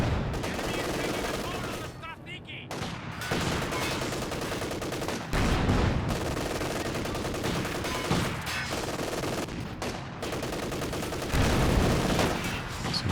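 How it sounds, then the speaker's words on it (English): Panzer IV tank fire in the Company of Heroes 2 video game, set in a dense, continuous battle soundscape of cracking gunshots and rattling automatic fire with repeated loud blasts. "You can see all of these shots are like landing on the elevation, just about nothing connecting with the Penals directly"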